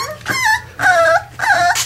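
An American Staffordshire Terrier puppy, four weeks old, whines close by in three high, wavering cries, each rising and falling in pitch with short pauses between.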